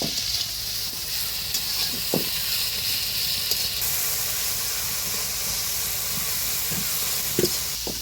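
Ginger-garlic paste sizzling in a hot pan, a loud, steady frying hiss throughout with occasional soft knocks of a stirring spoon, no voices.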